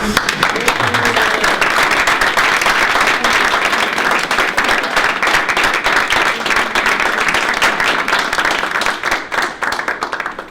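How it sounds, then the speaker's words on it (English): Rousing applause from an audience at a library budget and candidates forum, a long dense wash of many hands clapping, steady and loud, tapering slightly near the end. "now it's time for the rousing applause"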